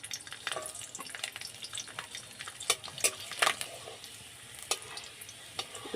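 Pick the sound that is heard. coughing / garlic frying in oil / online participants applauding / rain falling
garlic frying in oil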